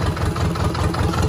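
A Yanmar 2LM two-cylinder diesel engine rated 24 hp at 3000 rpm idles steadily, a dense, close, loud rhythmic chugging with heavy low rumble and no talk over it.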